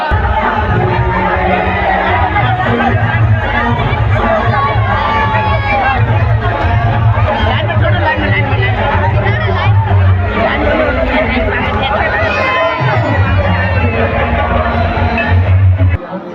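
A dense crowd of devotees at the Agam Kuan Sheetla temple on Sheetla Ashtami, a loud, continuous babble of many voices with music or chanting running underneath.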